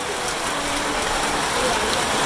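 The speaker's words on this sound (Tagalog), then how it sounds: "Inabot na naman po tayo ng ulan." Steady rain falls outdoors during a food handout for seniors in Camarines Sur, a constant close hiss that stays loud and even throughout, with no separate drops standing out.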